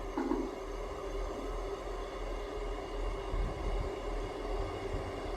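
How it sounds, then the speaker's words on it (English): A train pulls into a station platform, its low rumble steady and moderately distant, with a brief tonal sound near the start. "The train arriving at platform 2 is the 12:31 service to Leven."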